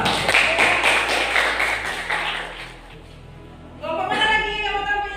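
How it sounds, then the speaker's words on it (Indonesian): A classroom group applauds a presenting group, a burst of clapping by several people for about two seconds that thins out, followed by brief tones. "Kasih aplaus dulu"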